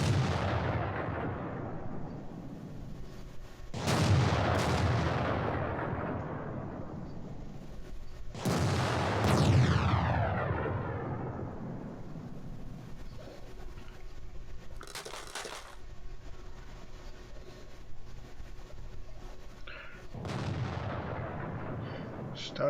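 Tank cannons fire in the World of Tanks video game, with a T-34-85 in play, as a few heavy booming shots spaced seconds apart, each one decaying into a long, rumbling tail.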